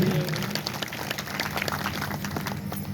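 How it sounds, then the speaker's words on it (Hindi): Audience applause at a Ram Katha religious gathering, a steady wash of many hands clapping, moderately loud and continuous for the whole stretch. "एक बार सभी लोग इनके लिए भी जोरदार तालियां बजाएं।"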